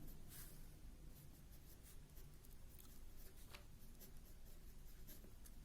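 Pen or pencil writing out a maths inequality on paper, making quiet, close scratchy strokes with small pauses over several seconds.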